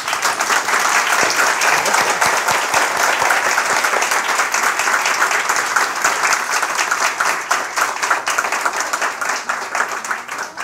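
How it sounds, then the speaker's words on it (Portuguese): An audience at a cultural centre talk applauds the speaker, a thick, sustained roar of many clapping hands that holds steady for about ten seconds and thins slightly toward the end. "gostaria de concluir com uma bela salva de palmas para a nossa palestrante"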